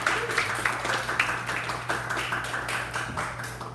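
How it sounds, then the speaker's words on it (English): A church congregation claps for a departing worship pastor, moderate applause with distinct individual claps over a steady low hum. "Let's give her a round of applause for that"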